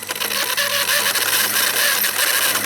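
A small electric motor in a Coleman RC vehicle, revving under throttle on a workbench, gives a loud, continuous high whine with a busy mechanical rattle, close up and without talk.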